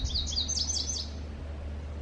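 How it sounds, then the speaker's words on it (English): A single indigo bunting song, a quick series of high, sweet paired notes falling over about a second, then fading into steady outdoor background hum. "Indigo bunting."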